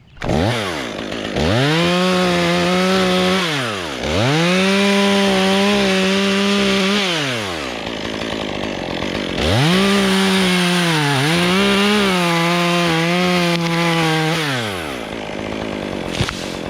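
A chainsaw cuts into a leaning tree up to the hinge, its loud engine bogging and revving in long strokes. There are brief drops between passes and no talking.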